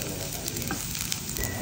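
Garlic sizzles in hot cooking oil, a steady close crackle and hiss with faint stirring, alone with no talk, as the base for a fried rice.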